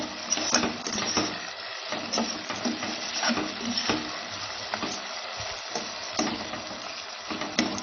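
Thinly sliced onions fry over a medium gas flame and are stirred constantly, giving a loud, crackling sizzle broken up by repeated scraping strokes in an uneven rhythm, with no voices.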